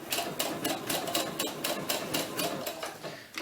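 Sewing machine stitching a seam on a doll T-shirt, running in a steady rapid rhythm of repeated bursts for the whole stretch, fairly quiet and close, with no talking.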